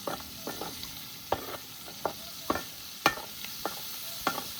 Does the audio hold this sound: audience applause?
no